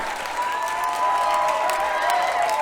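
A large comedy-show crowd, balcony included, claps and cheers steadily and loudly throughout, a dense unbroken wash of applause with whoops rising above it.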